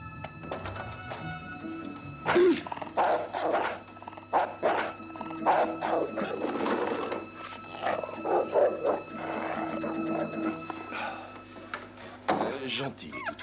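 Dogs growl and bark in repeated bursts at close range, mixed with people talking over them.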